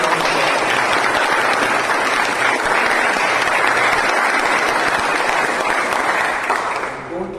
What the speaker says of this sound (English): Don't clap so much